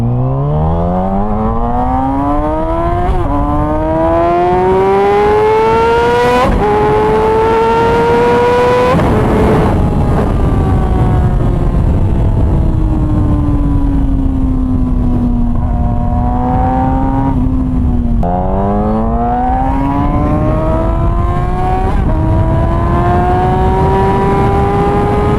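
A Yamaha R6 sport motorcycle on a first ride, its engine loud and close as it revs up through several rising gear pulls, dropping pitch at each shift, with steady road and wind roar underneath.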